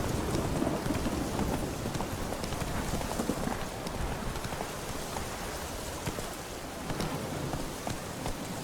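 A horse gallops in The Witcher 3, a continuous dense patter of hooves under a rain-like wash of ambience, steady and moderately loud with no clear pauses.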